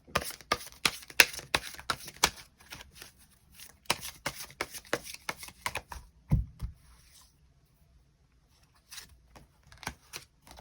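Tarot cards are shuffled in quick, crisp bursts of riffling and tapping. A soft thud follows, then a pause, then a few more light card flicks as cards are drawn, all close up with no voice.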